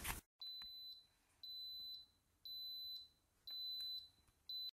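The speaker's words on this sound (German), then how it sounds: "jetzt wird er gleich irgendwann piepsen und dann ist er fertig" An Instant Pot pressure cooker signals it is done with a series of steady, high-pitched electronic beeps, about five evenly spaced tones, each lasting around half a second, clear and close in a quiet kitchen.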